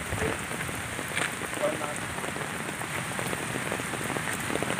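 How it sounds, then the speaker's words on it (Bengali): Heavy rain pours down outdoors in Jhargram, a dense, steady hiss of drops hitting surfaces close by, continuous and unbroken throughout. "এরকম বৃষ্টি পড়ছে ঝমঝম করে ছাতা মাথায় দিয়ে।"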